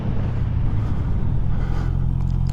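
A Honda CB650R motorcycle engine drones steadily and loudly while riding, a constant close rumble with wind noise and no clear change in pitch.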